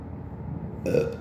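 A single short burp, close and fairly loud, rising abruptly out of a quiet low hum.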